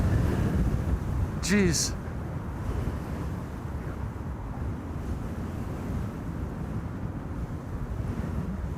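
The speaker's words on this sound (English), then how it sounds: "Not just wind, also wake turbulence." Wind buffets the microphone steadily outdoors at Amsterdam Schiphol Airport during plane spotting, a rough low rumble lasting the whole stretch, with a brief spoken exclamation near the start.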